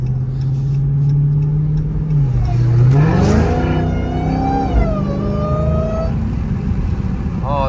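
Dodge Charger Hellcat engine accelerating hard, a loud close roar with a rising supercharger whine that climbs in pitch through the gears, with a voice heard briefly over it.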